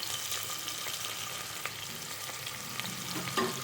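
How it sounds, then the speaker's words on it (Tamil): Long-sliced onion frying in hot oil for chicken leg biryani, a loud continuous sizzle close by with occasional stirring scrapes and no talking. "இது கொஞ்சம் நல்லா பொன்னிறமாக வறுத்து எடுத்துக்கலாம்."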